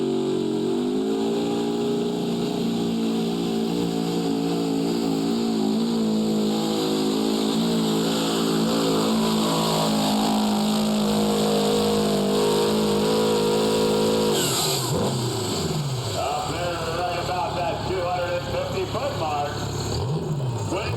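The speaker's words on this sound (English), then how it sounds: "Turbocharged V8 diesel of Jeff Mitchell out of Evanston, Maryland" A turbocharged V8 Detroit Diesel pulling tractor roars loud and close at full throttle, holding a steady high-pitched drone before the tone drops and wavers near the end, with an announcer talking over it.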